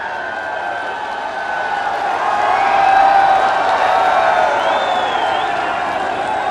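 A large crowd applauds steadily at a prime minister's project inauguration ceremony, the clapping swelling toward the middle and holding, with scattered cheers and a faint whistle over the broad wash.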